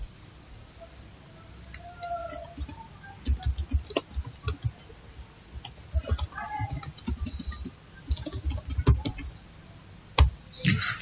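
Typing on a computer keyboard while working in the vi editor on Linux, irregular bursts of close, crisp key clicks with brief pauses between runs.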